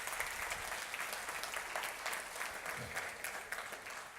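Church congregation applauds steadily, a dense wash of many hands clapping at moderate distance, continuous and even with no voices standing out.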